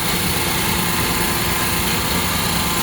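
A small engine idles steadily and evenly for the whole stretch, a continuous close mechanical hum with no voices.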